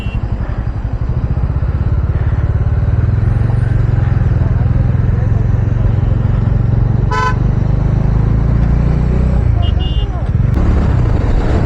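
Busy highway traffic on a long road trip, with a steady loud rumble of passing engines and a few short car horn toots cutting through near the middle and end, all heard from up close.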